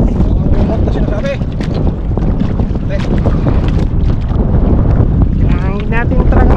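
Strong wind buffets the microphone at sea with a loud, constant roar. Someone talks over it, with splashes of water close by.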